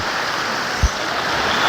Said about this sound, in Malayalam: അതല്ലേ വെള്ളത്തിന്റെ ഒഴുക്ക്